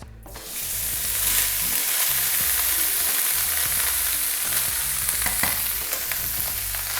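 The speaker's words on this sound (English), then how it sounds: "Now my oil is smoking, I'm going to add the rice." Rice hits smoking hot oil with a loud, steady sizzle and crackle, a dense frying hiss that holds strong for several seconds.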